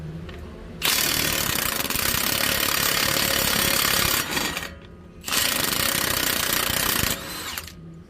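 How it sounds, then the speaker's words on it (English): An impact wrench hammers loose the axle nut on a Jeep JK during axle seal work, two loud sustained rattling bursts of several seconds each separated by a short pause, close and without talk. "Use a bigger impact if your stubby can't get it."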